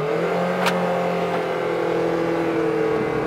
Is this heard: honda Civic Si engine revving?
yes